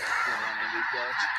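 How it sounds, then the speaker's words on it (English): Snow geese honk in a dense, continuous chorus of overlapping calls, loud and steady throughout with no speech. "Yeah, those are definitely snow geese."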